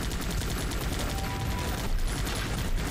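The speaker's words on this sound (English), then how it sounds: "Oh, the mortar is firing." Mortar firing in the tactical game Guns Up!, set within a dense, continuous barrage of battlefield gunfire and blasts that stays loud throughout.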